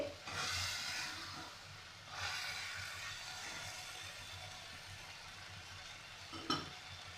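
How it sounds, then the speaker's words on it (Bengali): Banana flower curry with potato and prawns being stirred slowly in a pan, a soft scraping and sizzle in a few bursts followed by a steady low hiss, with one sharp clink near the end. "এবার একটু আস্তে আস্তে নেড়ে আর একটুগুলো মিশিয়ে নেব"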